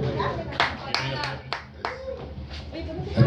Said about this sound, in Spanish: Así que un aplauso una vez más para Oscar Parraguirre Lager.